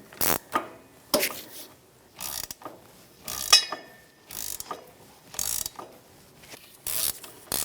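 Ratchet wrench with a 12 mm socket snugging driveshaft bolts on a 2013-2018 Toyota RAV4 2.5L, close bursts of rapid clicking repeated about ten times with short pauses between strokes.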